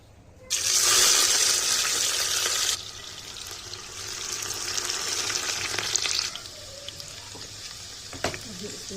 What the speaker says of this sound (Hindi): दूसरी साइड से लगाया है दूसरा प्रेशर, जिसमें हम मीट को फ्राई करेंगे। हाई फ्लेम पे रखा है।